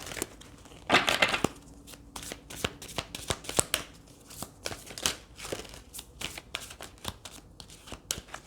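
Tarot cards being shuffled at close range, a run of crisp riffling flutters followed by many short separate slaps and flicks of card stock, with no talking.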